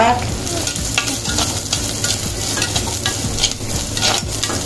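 Chopped large onion frying with cabbage in a clay pot for cabbage poriyal: a continuous close sizzle with stirring scrapes, steady and fairly loud throughout.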